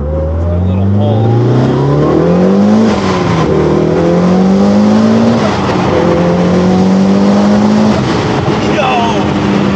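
A Mitsubishi Evo 8 RS making about 340 wheel horsepower pulls hard through the gears, its engine note climbing repeatedly with brief dips at each shift, loud and close inside the cabin.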